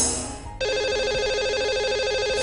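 A telephone rings on a live radio call-in show as a call to a listener is placed, with a steady electronic warbling ring that starts abruptly and continues loudly and close.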